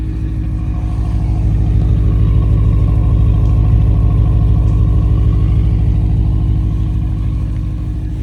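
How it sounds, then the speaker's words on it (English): A BMW E92 with a Valvetronic exhaust idling, a steady deep rumble with a fine rhythmic pulse, loud and close, holding constant with no voices. "Which it does sound really good on idle."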